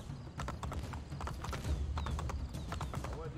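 Horse hooves clip-clop at a fast gallop in Assassin's Creed Brotherhood, a steady rhythmic pounding with a brief whinny, loud and near over game ambience, with no talk.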